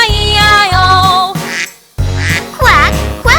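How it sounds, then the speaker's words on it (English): Cartoonish duck quacks in a children's Old MacDonald Had a Farm nursery rhyme come loud and close, set among bright sung music with a short pause in between. "on his farm he had a duck, E-I-E-I-O, with a quack quack here and a quack quack there"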